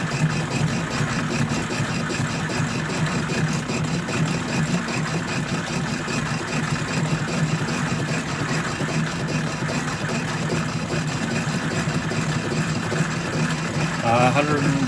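Logan 210 metal lathe running at about 150 RPM with a little chatter, a steady close mechanical drone with faint rhythmic ticking that holds constant for the whole stretch.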